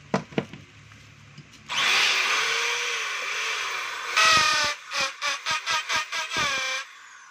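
A DeWalt DWD024 1/2-inch hammer drill running on a test after repair, a loud whining motor in a long sustained run, then several short bursts as the trigger is pulsed, close up.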